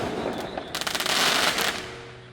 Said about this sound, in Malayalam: ഇവിടെ സ്റ്റാർട്ടായിട്ടുണ്ട് പടക്കവും പൊട്ടാസൊക്കെ വെക്കാനായിട്ട്